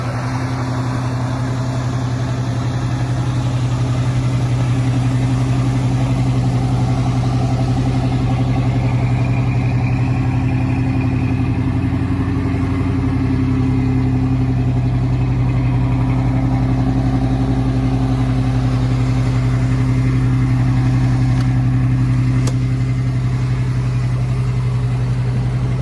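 A 1965 Ford Galaxie 500 sits idling, its engine a steady, loud low hum with a constant droning tone, running evenly throughout and heard up close with no voices over it.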